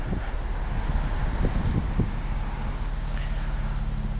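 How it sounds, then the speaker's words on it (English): Gusty outdoor wind buffets the microphone with a steady low rumble beside a pearl white 2020 Nissan Maxima SR, with a few louder thumps and faint rustling. "Oh, it's windy."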